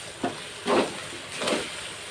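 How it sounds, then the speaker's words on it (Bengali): Lote (Bombay duck) fish fries in a pan, a steady hiss of sizzling broken by three louder swells as the pieces are stirred and turned, close and clear with no talking. "দেখুন বন্ধুরা, এই যে আমার লোটে মাছটা এই যে এমনি পুড়িয়ে পুড়িয়ে ভেজে নিতে হবে।"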